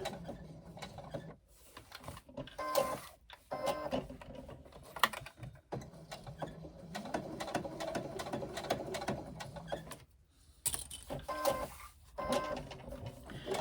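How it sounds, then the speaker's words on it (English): A sewing machine runs in bursts, basting a small cut-out corner piece of fabric together with brief pauses between runs of rapid mechanical stitching, close and fairly loud with no talking. "you're going to stitch across and down the little cutout corner piece"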